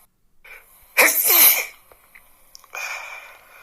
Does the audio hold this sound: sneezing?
yes